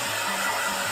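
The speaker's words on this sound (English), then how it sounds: "Jessie loves the hair dryer." A hair dryer runs steadily and loudly at close range as a continuous broadband blowing whir, with no voices.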